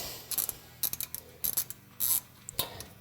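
Ratchet clicking as a bolt is loosened on a Polaris RZR XP side-by-side, several close bursts of quick metallic clicks with short pauses between strokes, no talking.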